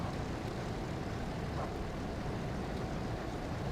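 A Douglas DC-3 airplane flying low and slow, its piston engines giving a steady, dense droning roar that fills the cabin at a constant level throughout, with no voices.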